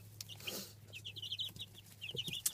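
Two-week-old chicks give a run of high, quick peeps and soft clucks at close range over a low steady hum. No one speaks.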